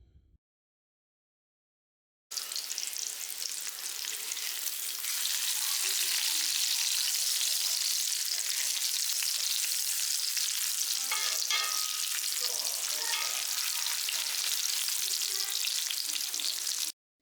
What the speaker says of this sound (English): after I've let them fry for a few minutes on one side, I flip them over and I do the same on the other side